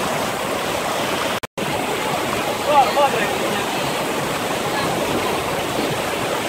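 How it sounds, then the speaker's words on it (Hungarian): A rushing mountain stream in the Turi gorge, Romania, roars as a constant broadband wash of water close by, broken by a brief cut near the start and a few faint higher bird-like chirps midway. "Itt a rohanó patak mellett."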